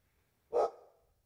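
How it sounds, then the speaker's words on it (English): A single short, close dog bark with a brief tail, set against near silence. "Stop barking."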